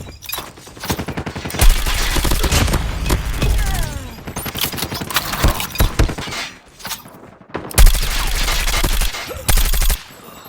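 Rapid, loud bursts of automatic fire from the mythic Grau assault rifle in a Call of Duty multiplayer match, with sharp cracks and echoing tails in several long volleys separated by short pauses.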